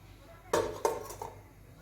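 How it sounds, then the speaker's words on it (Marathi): A metal pressure cooker lid clatters down onto the cooker with two or three quick clanks, close and fairly loud, then settles into quiet. "कुकरची लीड लावून घ्यायची आहे"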